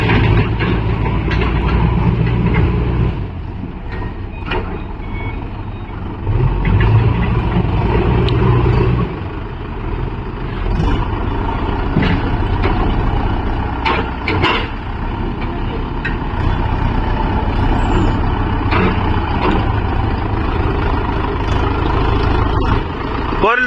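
A Mahindra Yuvo Tech Plus 585 4WD 50 hp tractor runs with a loud, steady diesel rumble while loading soil alongside a JCB 3DX, the engine drone continuous and close, with people talking over it at times.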